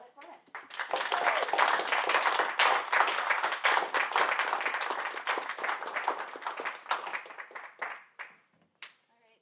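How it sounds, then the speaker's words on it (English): Audience applause for a Maryland delegate after a talk on transportation priorities, a dense round of clapping that builds quickly, holds steady for several seconds, then thins to a few scattered final claps. "please join me in giving a round of applause to Delegate Korman"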